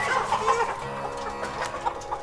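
A chicken picked out before halal slaughter clucks in a steady run of short, close calls, heard alone without talk.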